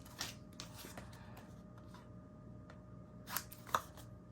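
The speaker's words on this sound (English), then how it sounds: "grab your scissors out, and we're going to clip the corners." Scissors make a few short snips while clipping the corners of paper pages for a mini album, quiet and close, with soft handling rustle between cuts.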